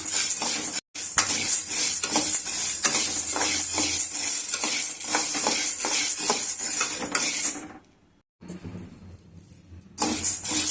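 Chana dal is dry-roasted in a kadai over a low flame, with rapid, continuous rattling and scraping of the lentils under a spoon. The stirring drops out briefly twice, then resumes loud and close.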